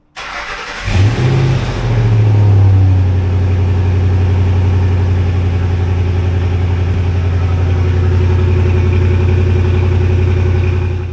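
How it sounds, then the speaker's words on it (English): A 2004-2008 Ford F150 pickup with its stock exhaust cranks and fires up, revs briefly, then settles into a steady, loud, close idle that holds for the rest of the clip. "Alright, so just a little before exhaust startup clip."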